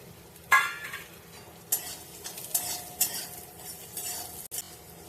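Whole spices roasting in a hot pan with garlic and ginger, stirred with a metal spoon; a soft sizzle runs throughout under several scraping, clattering stirring strokes, close and fairly loud, no talk.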